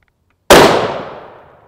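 A single close, very loud 30-06 rifle shot firing a Remington Accelerator sabot round at an outdoor range, a sharp crack after brief silence followed by a rolling echo that fades out over about a second.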